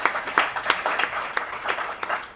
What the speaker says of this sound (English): Please clap if you do.